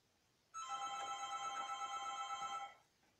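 A telephone rings steadily for about two seconds, a bright electronic trill standing alone in a quiet room with no talk over it.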